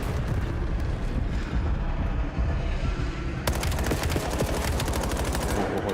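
Call of Duty gunfire in a tournament match rattles in dense automatic bursts, loud and continuous, with the firing growing sharper and more intense toward the end.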